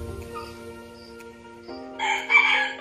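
A young fighting rooster, about two months old, crows once, fairly close, its call rising strongly toward the end over a quiet background with no talk.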